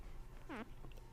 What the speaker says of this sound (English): I just like burped and like threw up in my mouth